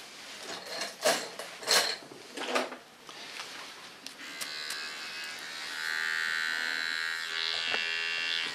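Small oval hair clipper cleaning up the contour line of a pixie haircut, a steady close electric buzz that starts partway through and holds, following some brief handling knocks and rustles.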